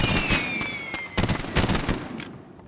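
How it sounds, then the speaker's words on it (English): Video-game fireworks in On the Rain-Slick Precipice of Darkness 1 crackle and pop in a quick run of sharp bursts, several close together and then a few more spaced out, with a bright whistling streak at the start. "it's fireworks"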